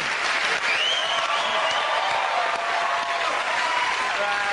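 An audience applauds on a comedy panel game show, a continuous even roar of clapping held at a constant level, with faint voices underneath.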